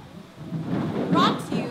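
Live Foley thunderstorm effect for a stage production of A Christmas Carol: a low rumble of thunder building steadily over steady rain, rolling loud and close with no voices.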